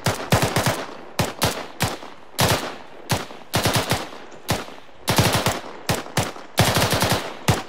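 Bursts of machine gun fire during military formation and movement training, loud and close, coming in repeated rapid strings separated by short pauses.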